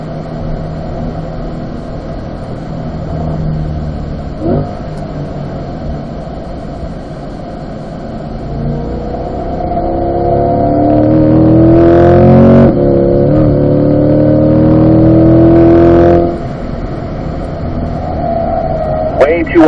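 A car accelerates around a race track during a track day session, its engine note climbing through the gears and rising to a loud, sustained roar before easing off, with a voice speaking over it.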